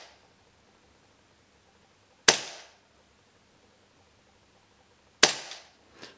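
Two sharp, loud cracks several seconds apart from a Tokyo Marui Detonics .45 chrome airsoft gas pistol, each snapping out and fading quickly over near silence.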